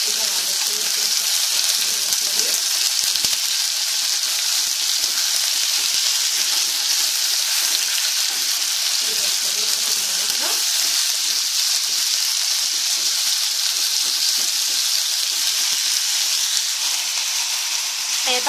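Veal pieces sizzle steadily in a hot pan as their juices cook out, a continuous bright crackling hiss throughout with no talk.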